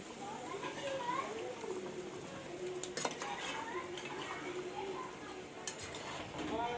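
Chicken fry seasoned with turmeric stirred in a pan, restaurant style: a spoon scrapes and clinks against the metal in an uneven rhythm, close by, with faint voices in the background.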